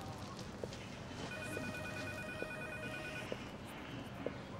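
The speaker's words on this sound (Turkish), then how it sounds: "Telefon çalıyor galiba Nihat abi." A telephone rings in a home or shop in a Turkish TV comedy, a steady electronic tone repeating in several evenly spaced bursts, heard fairly clearly over a busy background with no one talking.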